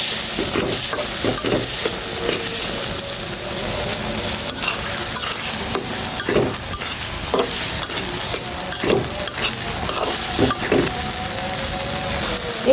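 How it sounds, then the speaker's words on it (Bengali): A spoon stirs tomato curry in a hot pan, making repeated scraping and clattering strokes over a continuous close, bright sizzle. "ঢাকনাটা সরিয়ে একটু নেড়ে ছেড়ে দিচ্ছি"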